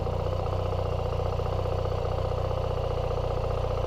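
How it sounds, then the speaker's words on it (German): A BMW motorcycle with the automated shift assistant fires up and settles into a steady running idle, its close, even engine rhythm filling the short span without any talk. "Wenn man also mit der rechten Hand den Bremshebel zieht und etwas auf dem Startknopf bleibt,"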